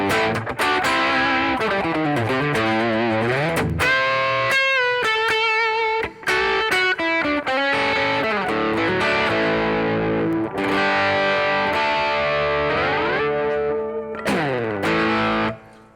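An electric guitar with overdrive on the bridge pickup plays bright, biting chords and bends with sliding pitch, loud and sustained, with a couple of brief stops.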